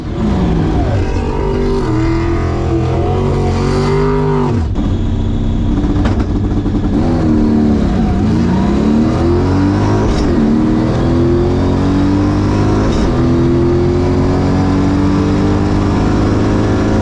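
A supercharged 700 hp drag car races a Camaro down a drag strip, its engine roaring loudly and steadily through repeated gear changes with rising and falling pitch, close and continuous with no voices.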